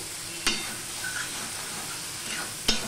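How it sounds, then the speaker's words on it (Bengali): Masala okra (bhindi) stirred in a pan over a high flame, a steady soft sizzle with two sharp scrapes of the spoon against the pan, near and without talk. "সমানে এইভাবে নাড়তে থাকবো, হাই ফ্লেমে দিয়ে দিলাম আমি"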